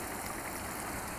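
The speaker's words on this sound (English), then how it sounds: "flowing water." Steady, close rush of a waterfall and stream at Jordan, Minnesota, a continuous broadband roar of flowing water with no break.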